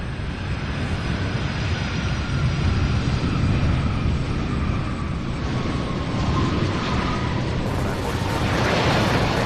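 UPS Flight 2947 from Oakland, a cargo plane, landing at Louisville SDF airport with a loud, continuous roar of jet engines that holds steady and swells slightly toward the end, heard from fairly close.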